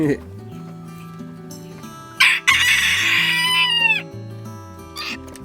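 A young bantam rooster crows once loudly, a rising then falling call with harmonic streaks in the middle of the clip, while someone talks throughout in Portuguese and hens cluck faintly around the farmyard.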